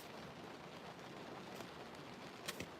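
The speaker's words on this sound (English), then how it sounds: "It's raining harder now." Rain falls harder at night as a soft, steady hiss, faint and unbroken, with a couple of brief taps near the end and no talking.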